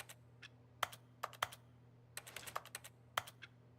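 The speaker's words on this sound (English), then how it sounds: "Ooh, I like these typing sounds." Keyboard typing sounds in The Stanley Parable video game, a quiet run of sharp isolated key clicks in irregular bursts over a low steady hum, with no voices.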